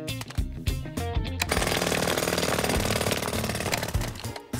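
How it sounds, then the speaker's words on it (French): A cartoon jackhammer breaks up a road with a loud, continuous rapid mechanical hammering. It runs for several seconds over a busy background, with no voices. "Tu te souviens comment faire marcher le marteau-piqueur?"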